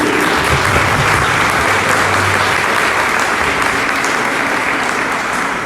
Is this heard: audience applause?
yes